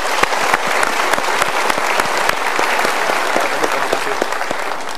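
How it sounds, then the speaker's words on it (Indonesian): A studio audience at a motivational talk show claps steadily and loudly, with crisp individual claps standing out over a continuous bed of applause. "Kita berikan tepuk tangan untuk mereka."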